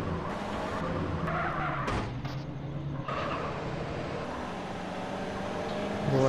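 In a GTA San Andreas game, a car crashes and skids with a steady engine drone, sharp impact bangs and a brief tire squeal, moderately loud with no talk.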